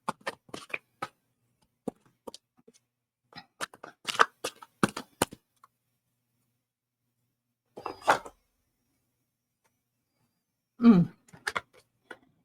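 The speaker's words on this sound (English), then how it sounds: "Okay, one more shuffle." Oracle cards being shuffled by hand in short, crisp riffling bursts separated by pauses, close and clear in a quiet room, with a brief throat-clearing-like sound near the end.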